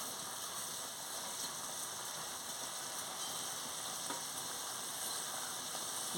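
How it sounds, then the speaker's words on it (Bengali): Chopped papaya and vegetables for a Bengali papaya ghonto sauté in a hot pan with spices, giving a continuous, even sizzle that stays loud and close throughout without speech. "দিয়ে আনাজটাকে ভালো করে কষিয়ে নিচ্ছি"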